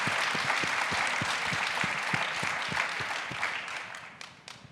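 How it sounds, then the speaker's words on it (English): An audience at an evening talk with garden designer Piet Oudolf gives the horticultural staff a steady round of clapping that holds loud for several seconds, then thins and fades. "Yes, you could applaud the horticultural staff."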